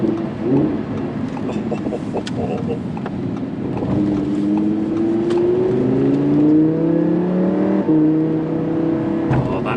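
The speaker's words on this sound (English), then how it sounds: "Engine just sounds absolutely epic." Audi R8 V10 Plus engine driving on a damp, rain-soaked road, loud steady drone with rising revs through gear changes and tyre hiss.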